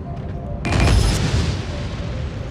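Ray cannon super rockets fire in the Forts battle game, a loud booming blast with a sharp onset that rolls into a long rumbling decay, with no talking.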